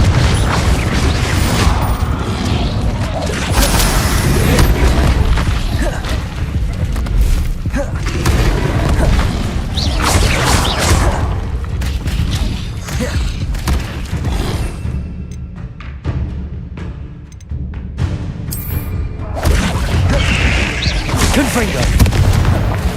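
Repeated Confringo blasting spells in Hogwarts Legacy combat on hard difficulty, as a run of heavy booming explosions and thuds over a dense battle din, loud and close, with a brief quieter gap partway through. A voice talks now and then over the blasts.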